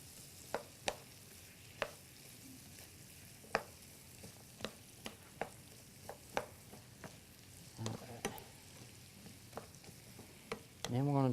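Zucchini and squash with minced garlic sizzle softly in a pan while a spoon stirs and taps in irregular clicks, ending in a louder scrape.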